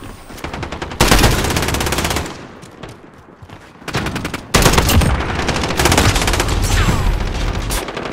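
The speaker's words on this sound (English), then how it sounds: "Actually, enjoying the burst fire on this." Burst-fire gun in an online shooter video game, rapid loud bursts of gunshots in long sustained strings with brief gaps between volleys, close and dominant.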